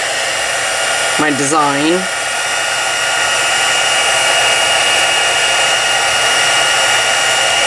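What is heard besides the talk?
heat tool blowing to dry a stenciled card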